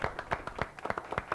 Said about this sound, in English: Let's give a round of applause, though, to Jordan